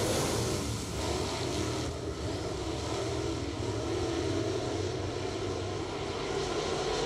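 Pack of Crate Racin' USA dirt late model race cars roaring around the Deep South Speedway dirt oval after the green flag, a dense, loud, sustained engine drone from a distance.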